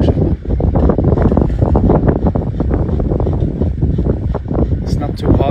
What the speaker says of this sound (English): A little bit windy, but it's beautiful.